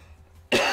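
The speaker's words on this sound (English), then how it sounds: "I needed to cough" A single loud cough bursts out suddenly after a quiet moment, close and harsh.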